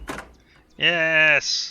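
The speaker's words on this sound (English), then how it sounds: "let's try every door" In the video game Sherlock vs Cthulhu, a door is opened with a key: a buzzing, tonal mechanical sound effect runs about half a second, then a brighter tone follows, just after a voice gives a short excited shout.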